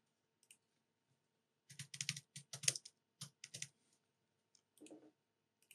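Short clusters of keystrokes on a computer keyboard, close and quiet against silence, with brief pauses between the bursts and a final faint tap.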